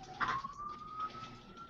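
A police or ambulance siren wails in a single sustained, slowly rising tone, moderately faint and heard alone without voices.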